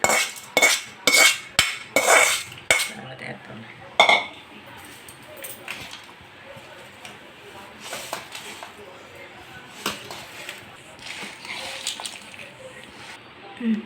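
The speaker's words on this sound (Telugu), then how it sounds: "అన్నంలో వేసి బాగా కలుపుకోవాలి." A metal spoon scrapes and clinks against a pot of rice being mixed for lemon rice in several sharp strokes, then softer stirring and occasional taps continue.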